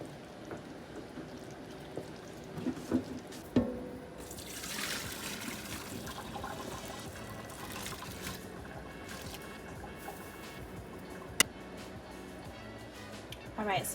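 Cooked spaghetti noodles tipped into a colander in a home kitchen, water pouring and trickling steadily for several seconds with a few clanks of the pot, fairly close and moderately loud.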